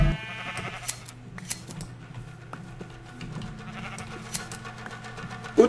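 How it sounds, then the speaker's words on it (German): Sheep in the video game Minecraft bleat in short, scattered cries over a low steady background hum, with quick clipping-like clicks between them and a louder bleat at the end. "Schafe, gib mir eure Wolle her."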